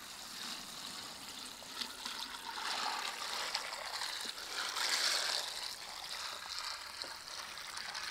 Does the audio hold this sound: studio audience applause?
no